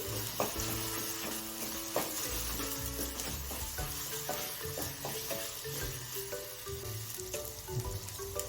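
A spicy red chilli masala mixture frying in oil for kat vada, a soft steady sizzle with repeated rhythmic spoon scrapes and stirs close by, no voices.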